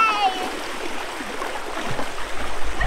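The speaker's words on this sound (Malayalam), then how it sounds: "നല്ല ഒഴുക്കുണ്ട് ഗൈസ്, നല്ല രീതിയിൽ വെള്ളം നമ്മളെ വലിച്ചോണ്ട് പോകുന്നുണ്ട്." River water rushes past in a strong current, a steady close splashing flow with bits of speech and other sounds mixed in.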